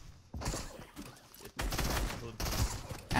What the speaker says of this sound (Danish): Ja, han skyder på mine decoys.